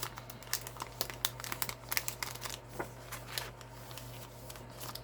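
A card slides into a clear plastic envelope with soft, close crinkling and rustling in irregular bursts, faint and alone.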